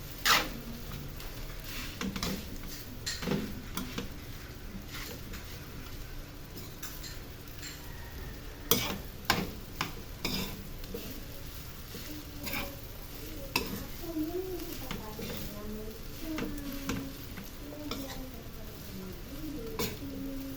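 Fried rice with adobo stirred in a hot pan, a steady sizzle under repeated scraping and clinking of the utensil against the pan, continuing close by for the whole stretch with no talk.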